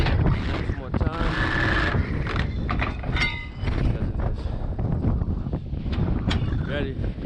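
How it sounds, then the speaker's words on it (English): Strong high wind in North Dakota buffets the microphone beside a truck, loud rumbling gusts throughout with clanks and squeaks of work on the rig mixed in. "Because it is very windy."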